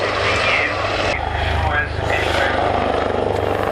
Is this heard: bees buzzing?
no